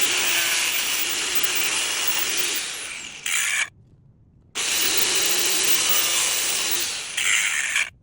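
A high-speed Dremel rotary tool grinds and cuts car carpet in two sustained bursts, whining loudly with a brief silent pause between them.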